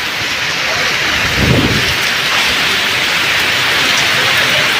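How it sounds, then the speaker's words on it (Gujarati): Heavy rain pours down at a polytechnic college, a loud continuous wash of downpour with a low rumble swelling briefly near the start. "અત્યારે પોલિટેકનિક કોલેજમાં ફૂલ વરસાદ છે"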